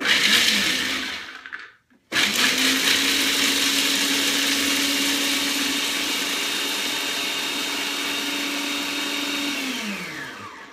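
Kitchen blender-type machine grinding nuts into flour: a loud, steady high whine that cuts out briefly, restarts, and holds its pitch before winding down at the end, with no voices.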